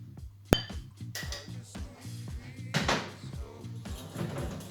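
A whisk strokes quickly through runny Dutch baby batter in a bowl, giving a steady series of close scraping clinks against the sides with a few sharper knocks.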